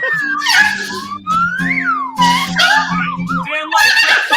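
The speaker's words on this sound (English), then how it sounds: "Slide whistle solo, go!" A slide whistle plays a solo of swooping, gliding pitches rising and falling in quick phrases, loud and close, over a steady low background tone.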